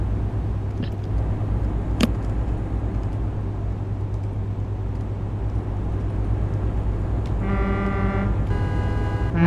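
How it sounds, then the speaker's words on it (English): Car horns honking back on a motorway in Euro Truck Simulator 2, a couple of clear toots near the end over a constant low engine drone from the truck. "Love when they honk back."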